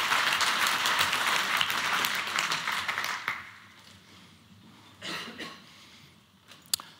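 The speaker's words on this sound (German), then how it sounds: "Ich bitte um einen herzlichen Applaus" An audience at a European trend-day conference applauds a speaker. Loud, dense clapping fills the first half, then quickly fades, followed by scattered coughs and throat clearing in a quiet hall.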